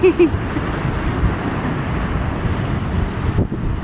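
Ocean waves surge toward the shore in a broad, continuous rush mixed with heavy wind buffeting the microphone. A couple of brief vocal sounds come at the start.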